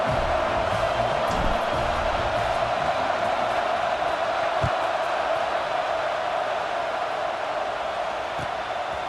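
Steady stadium crowd roar from the College Football 26 video game at Alabama, a dense continuous wash of distant voices holding at an even level throughout, with occasional faint thuds and no clear talk.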